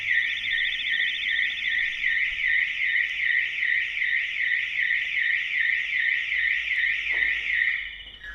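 A loud, close Autowatch 695 electronic car alarm siren wails in a fast, repeating up-and-down pattern, cutting off just before the end.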